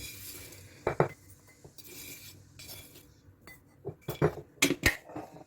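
A spoon stirs sugar and coffee in a cup at home, giving scattered bright clinks and taps against the rim that grow busier toward the end, close and fairly quiet, with no talk.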